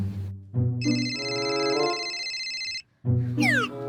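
A mobile phone ringtone rings out in a classroom, a bright electronic melody of sustained tones that plays for a few seconds, breaks off briefly, then starts again.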